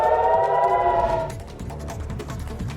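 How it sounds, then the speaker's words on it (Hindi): A wailing air raid siren rises and falls steadily in Haifa, Israel, loud and sustained, with a lower droning tone beneath it. "हाइफा में सुनी गई सायरन की आवाज और धमाके"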